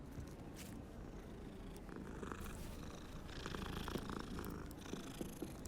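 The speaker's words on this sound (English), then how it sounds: "A happy cat." A cat purrs in the Hogwarts Legacy video game, a soft steady rumbling purr that runs continuously and faintly throughout, with no talking over it.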